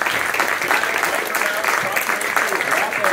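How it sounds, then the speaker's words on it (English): Applause from an audience at a student projects showcase, a steady wash of many hands clapping at moderate volume, with faint voices blended in. "can I get another round of applause for our five"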